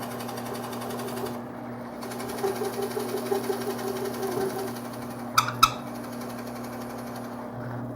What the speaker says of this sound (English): I'm going to use my depth stop, and I'm ready to drill